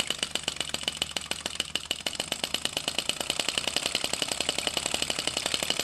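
A small flame vacuum engine runs with a rapid, even chugging beat, steady and close, its rhythmic puffs continuing throughout.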